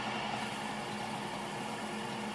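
A belt sander runs at its slowest speed, a steady, even whirring hum with a faint mechanical drone, continuous and fairly quiet throughout with no breaks.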